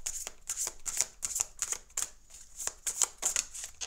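Tarot cards being cut and shuffled up close, a series of crisp riffling bursts and soft slaps in an uneven rhythm with short pauses between them.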